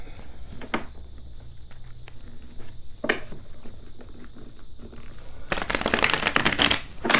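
A deck of cards is shuffled by hand, with a few soft isolated flicks early on, then a brisk, close riffling burst near the end, and no talking over it.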